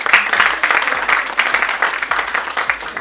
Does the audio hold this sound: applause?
yes